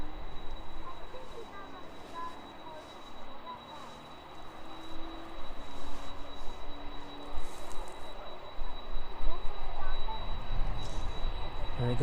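An aircraft taxiing off the apron at East Midlands Airport, its engine a steady whining rumble with a high tone, growing louder and closer over the span, with people talking faintly underneath.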